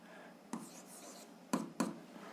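Pen strokes scratch across paper as an algebra solution is written out, a faint hiss broken by three short, distinct scribbling bursts close to the microphone.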